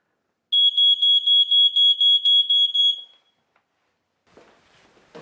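A smoke alarm being tested beeps in a rapid, piercing, evenly pulsed pattern for a few seconds, then cuts off to near silence with faint rustling afterward.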